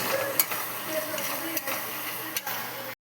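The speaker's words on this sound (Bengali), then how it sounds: "আলু ভাজাগুলো দিয়ে দিলাম।" Fried potatoes added to spiced masala in a pan, a moderate steady sizzle with stirring scrapes and clinks, ending in a brief cut to silence.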